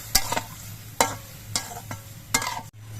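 A spoon scrapes and knocks rhythmically through mustard paste with turmeric and sugar in a pan, about four distinct stirring strokes with a soft sizzle beneath, close up.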